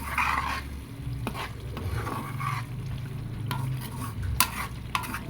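Bagoong (shrimp paste) sautéing in a pan while being stirred, a close sizzle with repeated spoon scrapes and clacks against the pan and a low background hum, no talking.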